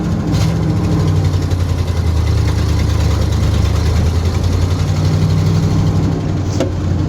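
A Ford F100 truck engine, fitted with a swapped TREMEC Magnum transmission, rumbles steadily while driving, a loud low continuous drone with brief clunks near the start and end.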